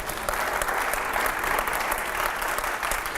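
Studio audience at a televised editors' show claps loudly and continuously, a thick, even wash of many hands filling the whole few seconds with no pause.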